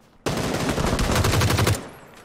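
Automatic gunfire in PUBG, a loud close rapid burst of shots lasting about a second and a half, standing alone without talk.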